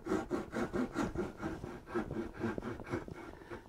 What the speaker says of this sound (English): now I'm going to cut with this saw straight down here